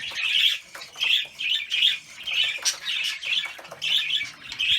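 A young male green budgerigar chirps busily at close range, giving a rapid series of bright, warbling tweets in bursts roughly every half second with brief gaps between them.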